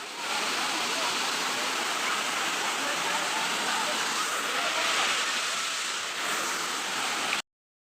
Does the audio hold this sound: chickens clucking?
no